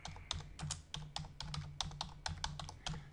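Typing on a computer keyboard, a quick close run of soft key clicks at an uneven rhythm, quiet and alone.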